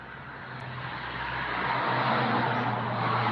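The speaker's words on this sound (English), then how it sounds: "I didn't realize there were so many cars out here." Cars drive past on a road beside a porch, a steady broadband traffic rush that slowly builds in loudness as a vehicle approaches, with no talking.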